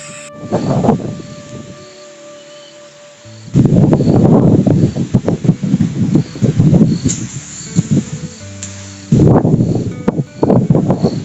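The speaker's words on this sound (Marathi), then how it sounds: "किती जोरात वारा चालू आहे" Strong monsoon wind gusts roar through trees in an Indian village in loud surging bursts, with leaves rustling heavily between quieter lulls and a steady faint tone underneath.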